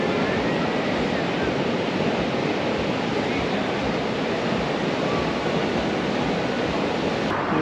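Waves break and wash continuously on the beach at Vagator in Goa, India, a dense, steady roar of surf mixed with wind, loud and close with no clear pauses.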